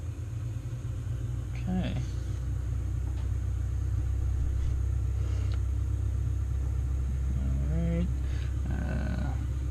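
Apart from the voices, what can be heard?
Cessna 172R aircraft engine idling after start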